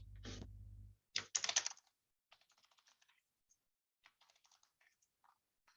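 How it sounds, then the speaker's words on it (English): Keys tapped on a computer keyboard, starting with a short burst of clicks followed by sparse, quiet keystrokes in an irregular rhythm, close and faint. "I'll start typing the name of the provider"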